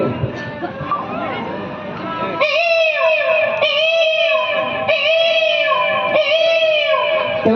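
A voice imitating a peacock's call, giving four loud, rising wailing cries in a row after some faint background chatter.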